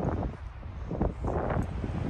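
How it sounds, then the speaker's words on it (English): Strong wind blows steadily outdoors on the Tahoe Rim Trail, a loud continuous rushing roar with gusty swells that buffet the microphone, with no talking. "the wind is so aggressive"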